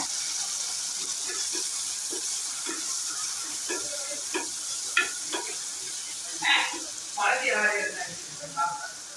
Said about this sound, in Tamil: வெங்காயம் நல்லா எண்ணெயில் வறுபட்டுடுச்சு